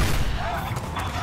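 Rapid hip-fire gunshots from the video game Destiny, a dense, steady burst of close shots filling the short stretch over continuous game sound.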